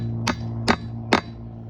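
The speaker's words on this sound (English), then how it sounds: "putting the wheel weights back on, which can be done with a couple light taps of a hammer" Three light, evenly spaced hammer taps sound sharply up close as wheel weights are knocked onto steel wheels, each a crisp metallic strike over a faint background hum.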